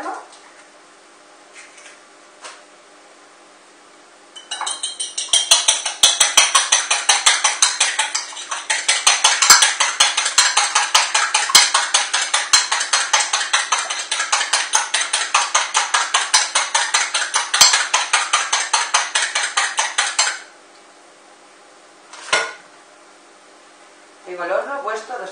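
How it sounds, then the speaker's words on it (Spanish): A fork rapidly whisks an egg in a bowl for an egg wash on a Palm Sunday cream pastry, giving a dense run of fast, close clinking taps lasting about fifteen seconds, followed by a few isolated knocks. "Ahora vamos a batir el huevo para pintarlo."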